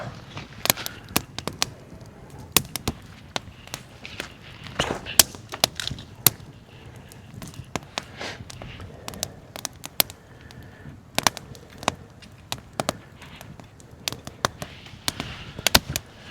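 Campfire with hot coals burning beneath a tripod cooking setup outdoors, crackling and popping in quick irregular snaps throughout, with no voices over it.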